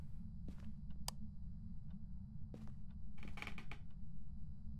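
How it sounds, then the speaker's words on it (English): Creaking in the horror video game Phasmophobia, Edgefield Street house, as a few faint scattered creaks and short mechanical ticks sound over a constant low ambient hum, ending with a brief cluster of clicks, with no voices. "Lots of creaks."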